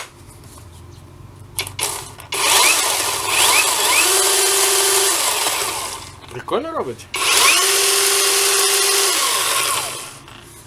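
A TRESZER TAS3 cordless chainsaw whines loudly in two long bursts, spinning up and running steadily, with a short spoken question in between.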